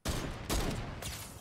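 Video game gunfire erupts as a rapid fusillade, loud, close and dense, with a second burst a moment later and a fainter third one before it trails off.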